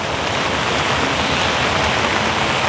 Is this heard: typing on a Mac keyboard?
no